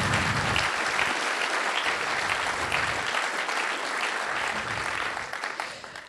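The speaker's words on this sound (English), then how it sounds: "please give them a big round of applause" Conference attendees give a big round of applause for the speakers and workshop runners, a loud, dense, even clapping that fades away at the close.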